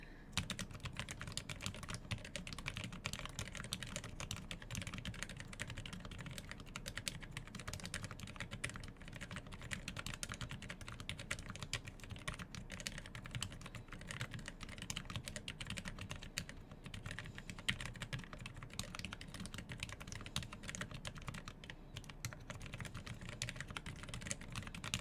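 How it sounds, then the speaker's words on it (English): Continuous typing on a Knuckhull 40% mechanical keyboard, steady clacking keystrokes in a dense, even rhythm for the whole stretch, close and fairly loud with no talking. "sounds like a keyboard."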